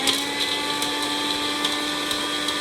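A mixie mixer grinder running steadily at close range, a loud, constant motor whine with a fixed hum and faint rattling ticks, no voices over it.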